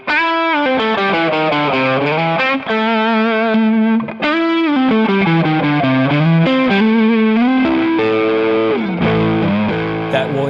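A Gibson Warren Haynes Les Paul P90 electric guitar with a 15 dB boost, plain maple cap on a mahogany body and P90 pickups, played loud and overdriven with sustained distorted bent lead notes and chords, alone without talk.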